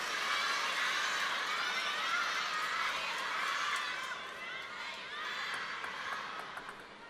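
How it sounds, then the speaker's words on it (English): A crowd at a table tennis match shouts and cheers loudly after a point, a dense sustained roar that fades slightly toward the end. "Big shout, big reaction from the crowd"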